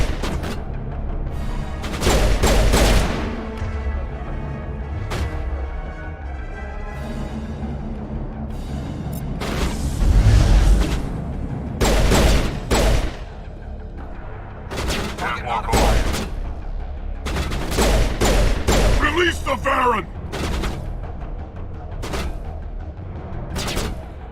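Enemy gunfire in the Mass Effect video game, repeated bursts of shots and booming impacts coming in clusters across the stretch, loud and mixed with game noise.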